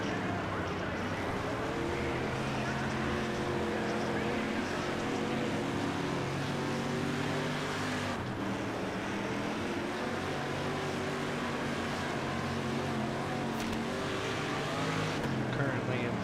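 A World of Outlaws sprint car racing around a dirt oval in a video game roars continuously at close range, its engine note rising and falling through the corners, with no pauses.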